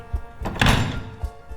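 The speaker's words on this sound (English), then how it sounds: "Shut the door." A door is pushed shut with a heavy thunk and a brief sliding rush, preceded and followed by light knocks, close and fairly loud.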